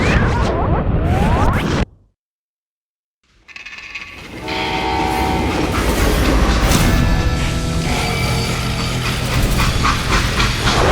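Freight train rolling on rails in the Western video game Call of Juarez Gunslinger, a loud, continuous rumbling clatter that briefly cuts to near silence before resuming with a heavy, sustained roar and metallic whine.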